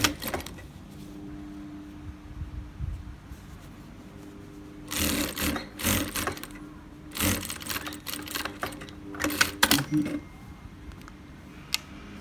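A sewing machine stitching a shirt shoulder panel along the seam line, running in several short whirring bursts separated by quiet pauses, close by.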